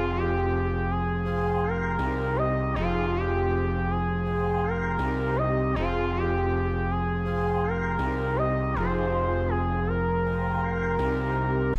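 The A section of a dark sample made in FL Studio loops steadily and alone, with a sustained deep bass and layered melodic synth notes changing in a repeating pattern.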